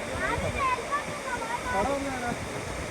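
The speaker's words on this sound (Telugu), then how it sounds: "జలపాతం" A waterfall at Araku pours in a steady, close roar of rushing water that holds through the clip, with voices talking over it.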